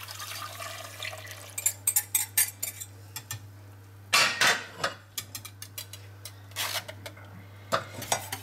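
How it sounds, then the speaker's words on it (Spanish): Custard mixture of milk and cornstarch poured through a metal strainer in a home kitchen, with liquid trickling and pattering in several bursts and utensils clinking against pots and bowls, close by, over a steady low hum. "Pasamos por el colador la mezcla"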